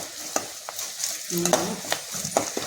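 Onions sautéing in a pan for home-style pepper chicken gravy, with a soft steady sizzle and scattered scrapes and taps of a stirring spoon; no talking.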